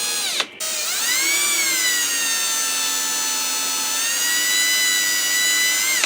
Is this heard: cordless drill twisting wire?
yes